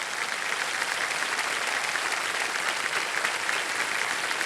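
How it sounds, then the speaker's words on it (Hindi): A TV game show studio audience on Kaun Banega Crorepati applauds steadily and loudly, a dense wash of clapping hands with no voices. "एक बार फिर जोरदार तालियां बज जाए"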